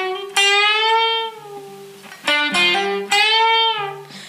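Electric guitar plays a short lead phrase with a sustained note, then a hammer-on, pull-off and bend on the second string, with a low accompanying tone underneath.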